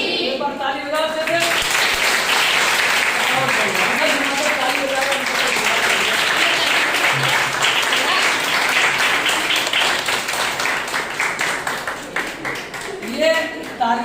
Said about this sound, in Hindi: आज की क्लास कैसी रही? एक बार ताली बजाओ से।